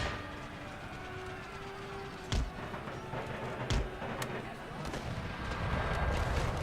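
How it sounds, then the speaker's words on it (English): Mortar shots land during an Empire: Total War battle against an Ottoman counterattack, giving a few sharp booms over a constant loud rumble of battle noise and music. "Oh, here comes the mortar shots."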